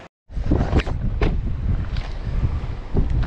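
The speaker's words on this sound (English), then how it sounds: "Oh my gosh, that wind is horrible" Strong wind buffets the microphone on a fishing boat during a mud catfish outing, a loud, continuous rushing roar that begins abruptly after a brief gap and keeps gusting throughout.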